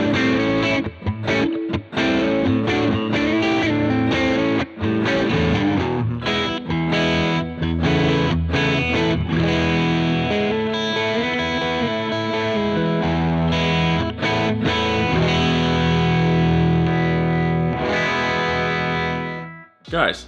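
Electric guitar played through the Overdrive 1 channel of a Jackson Audio Optimist pedal, a flat, transparent overdrive, sustained loud chords and riffs without pause until a sudden stop at the end.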